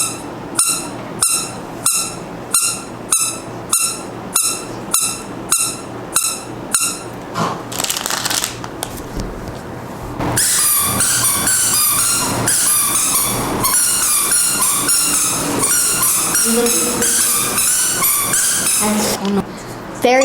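A small pig-shaped squeaky toy is squeezed over and over, giving a fast, regular run of sharp, loud squeaks close by, followed by busier noise with people talking.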